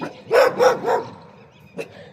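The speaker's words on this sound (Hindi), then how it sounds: "पीछे से कुत्ते की आवाज़ आएगी तो मैं कुछ नहीं कर सकता इनका," Several dogs bark in the background, three quick barks close together followed by a single bark a moment later, moderately loud.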